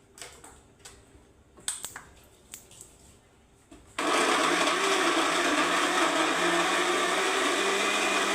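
A kitchen mixer grinder switches on partway through after a few scattered clicks and taps, then runs with a loud, steady, close whirring roar to the end.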